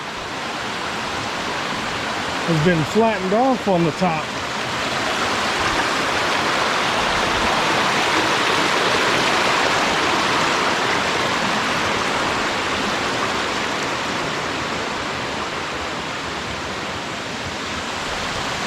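A steady broadband roar of rushing water from a waterfall in Shenandoah National Park fills the whole clip, with a brief burst of speech early on.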